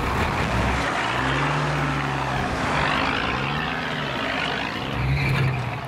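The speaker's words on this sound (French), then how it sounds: "Le chauffeur doit mettre toute la puissance de son moteur dans la bataille." A heavy truck engine labours at full power while stuck in deep muddy ruts on a rough road in Guyana, a loud continuous drone with rising and falling pitch.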